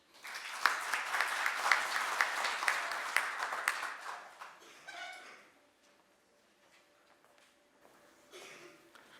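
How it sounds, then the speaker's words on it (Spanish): An audience at a mining conference applauds a speaker to the podium, dense close clapping for about five seconds that fades into quiet room tone with faint murmurs. "Lo recibimos con fuertes palmas y lo invitamos a pasar al podio"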